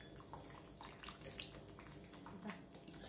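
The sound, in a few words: little water being poured into the pan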